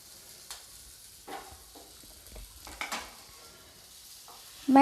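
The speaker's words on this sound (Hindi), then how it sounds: "इसी पैन में बिना तेल डाले ही मैं बचे हुए भिंडी को भी डाल दूंगी" Okra (bhindi) frying in a dry pan without oil gives a soft, faint sizzle, broken by several scraping stirs and utensil knocks against the pan, with a sharper metallic clink right at the end.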